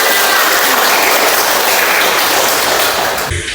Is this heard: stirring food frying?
no